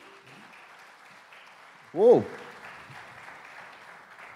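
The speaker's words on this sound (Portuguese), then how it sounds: "Uma salva de palmas para os nossos astros." Audience applause at a hypnosis show: a soft, distant patter of clapping that runs steadily beneath a single loud whooping cheer from one voice partway through.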